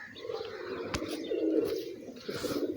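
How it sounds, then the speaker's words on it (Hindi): Fancy domestic pigeons coo softly nearby, low throaty rolling calls repeating over a light background hum, with a short sharp click partway through. "वो देखें जी कबूतर जो है ना"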